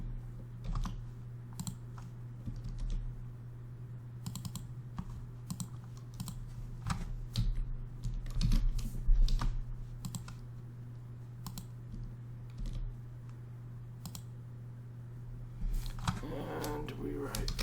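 Computer keyboard typing comes in scattered bursts of quick key clicks over a steady low electrical hum, with quieter stretches between and a louder rustling handling noise near the end.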